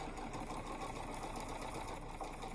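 A sewing machine stitches quilt fabric squares, running in a steady, continuous whir at moderate volume close by, with no talking.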